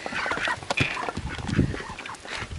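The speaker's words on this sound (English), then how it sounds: "She's such a lovely duck." A gentle farm duck quacks excitedly at breakfast time, giving a string of loud, close, irregular quacks and honking calls with no talk over them.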